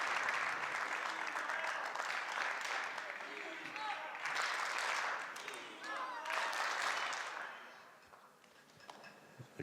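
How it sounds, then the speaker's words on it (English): Table tennis spectators at the men's singles final of the 2016 Polish Open applaud and cheer to urge on Dima, a dense wash of clapping lasting throughout that fades toward the end, with voices in the crowd beneath it. "The crowd trying to pump up Dima here."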